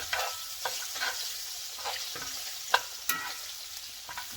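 Chunks of cube steak frying in a pan, a continuous sizzle broken by regular stirring scrapes and clacks of a utensil, one sharper knock partway through, with no talking.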